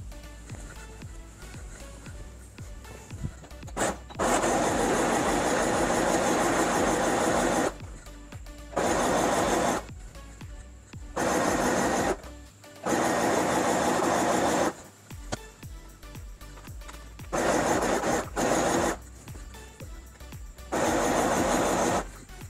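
A sewing machine stitches a seam on salwar pants in several long bursts of steady, loud mechanical whirring, broken by brief pauses, close up and with no talk.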